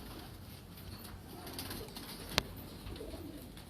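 Red netted (lal jaaldar) pigeons coo softly in a low, steady background murmur, faint and continuous, with one sharp click near the end and no voices.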